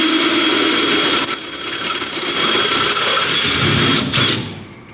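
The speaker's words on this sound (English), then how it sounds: "Hyper step bits make short work of it." Hyper step bit drilling 1/2 inch holes through a Ford F-Series truck frame during a hitch installation, a loud, steady, high-pitched grinding drone that holds for several seconds and then tapers off.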